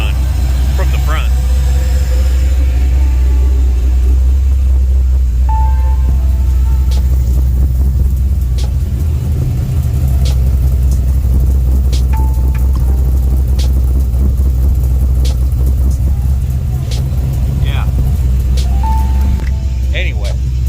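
An LS V8 idles steadily in a wagon with a deep, continuous low rumble close by, its idle air control valve held open, while someone talks over it.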